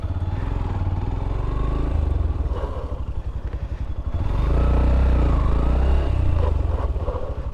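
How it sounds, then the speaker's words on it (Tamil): A Yamaha FZ-S Version 4 motorcycle brakes suddenly on a patch of sand at low speed, with a close engine throb and chattering, scraping rumble that swells as the bike slows. "சும்மா ஒரு 10 கிலோமீட்டரில் போய் சடன் பிரேக் அடிக்க போகிறேன்"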